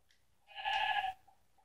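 A sheep in a video game lets out a single short, nasal bleat in the middle of the clip, fairly close and clear against near silence.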